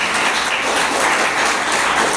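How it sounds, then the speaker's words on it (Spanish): A church congregation applauds at a sermon, a loud, continuous wash of clapping that holds steady throughout without any talking over it. "¿Cuánto le damos un aplauso a Jesús?"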